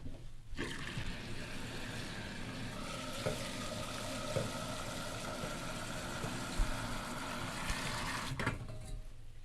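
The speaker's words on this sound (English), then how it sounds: "Let me get some water here." Water pours steadily from a kitchen tap into a pot for boiling, a continuous close splashing hiss with a faint low hum beneath, starting and stopping sharply.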